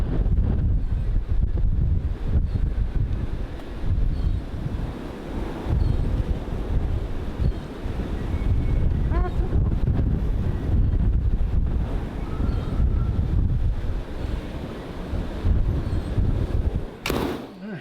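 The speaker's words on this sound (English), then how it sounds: "I'd say it's slightly windy." Wind buffets a microphone outdoors beside a Ford Excursion with a 7.3 Powerstroke. It makes a continuous, heavy low rumble with gusty surges throughout, and nothing else stands out above it.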